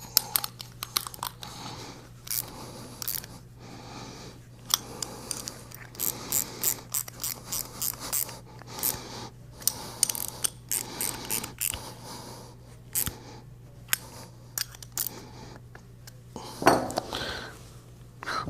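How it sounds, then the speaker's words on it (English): A ratchet clicks in short, rhythmic bursts while tightening the body bolts on a metal flush-tank ball valve, with sharp pawl ticks and occasional metallic knocks between pauses. "we're going to tighten all 4 body bolts up tight"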